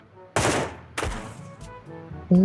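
Gunfire in the video game Sausage Man, two sharp shots about half a second apart, each trailing off into a short decay, followed by softer thuds and a brief tone at the end.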